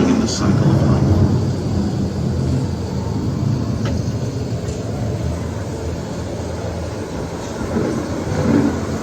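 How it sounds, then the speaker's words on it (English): A simulated approaching thunderstorm effect on the Glimmering Greenhouses Living with the Land boat ride at night, heard as a loud, steady low rumble with a rain-like hiss rolling continuously throughout. "The approaching storm may seem violent and destructive to us"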